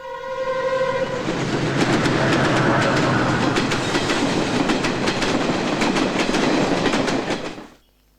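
A train rumbles past loudly with a horn blast at the start and rhythmic wheel clatter on the rails, then fades out abruptly.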